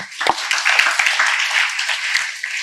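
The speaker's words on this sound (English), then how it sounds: "Give him an applause." A room of listeners at an ISKCON talk in Hyderabad breaks into applause, a bright burst of claps with a few sharp, close individual hand strikes standing out above the crowd.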